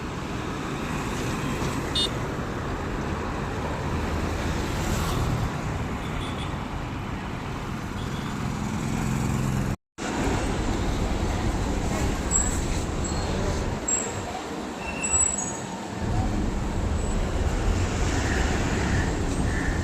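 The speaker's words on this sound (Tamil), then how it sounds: "பேருந்து நிலையம் உள்ளே வந்துட்டோம் கிளாம்பாக்கம் பேருந்து நிலையம்" Steady traffic ambience inside Kilambakkam bus station in Chennai: a continuous broadband roar of buses and road vehicles, with one brief dropout midway and faint voices mixed in.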